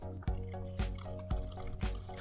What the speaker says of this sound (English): Next, I'm going to add the carbonated water.